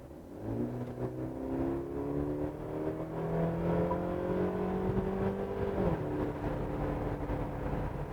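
A Mercedes GLC Coupe AMG Line accelerates hard from inside the cabin. Its engine note climbs smoothly in pitch for several seconds, dips briefly at a gear change, then keeps pulling at a steady hum.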